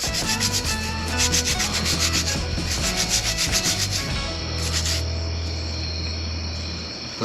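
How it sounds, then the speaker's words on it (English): Steady rubbing and scrubbing of blue quartz rocks being cleaned, a continuous abrasive, gritty scraping with a loose back-and-forth rhythm, close and fairly loud with no talking. "All right, let's keep scrubbing."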